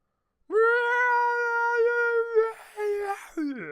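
A voice imitates a Star Wars TIE Fighter's engine with a sustained, strained, screeching wail lasting a few seconds, then a short rough break.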